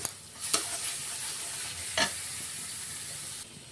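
Onion paste and turmeric fry in a pan for a Bengali tangra fish curry, a steady close sizzle broken by two brief scraping stirs, with no voices.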